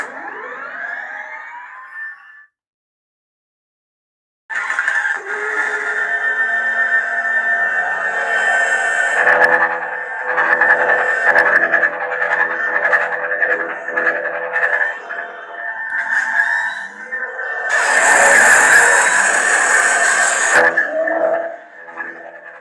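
Custom lightsaber staff sound effects from Space Junk Sabers, loud sustained electronic hums with rising swings and crackling clashes, broken by a brief silence early on and a harsh, bright burst near the end.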